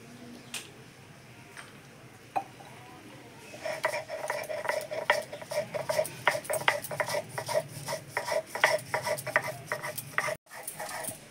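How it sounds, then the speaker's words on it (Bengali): Garlic, green chilli and black cumin ground together by hand on a grinding stone, giving repeated scraping, rubbing strokes after a quiet start, steady and close with small clinks of stone. "রসুন কুচি, কাঁচা লঙ্কা, আর একটু কালো জিরে একসঙ্গেই বেটে নেবো"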